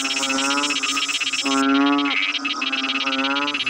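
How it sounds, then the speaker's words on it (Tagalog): A dense chorus of frogs in a rice field calls continuously, with layered buzzing, harmonic croaks from nearby rising and falling over a steady background chorus. "maingay sila kasi tumatawag sila ng mga kapwa nila palaka"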